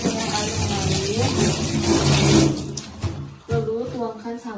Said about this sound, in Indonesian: basahkan tangan dengan air mengalir